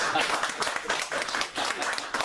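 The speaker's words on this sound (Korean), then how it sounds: "박수 좀 한번 쳐주세요." An audience at a lecture applauding, a dense patter of many hands clapping steadily for a couple of seconds.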